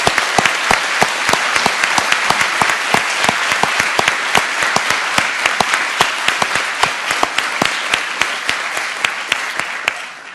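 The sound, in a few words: audience applause at law school convocation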